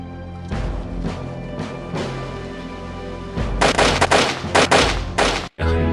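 Volley of gunfire on a military firing range after a shooting order, a string of loud sharp cracks clustered in the last few seconds, the first ones blurred over continuous background music.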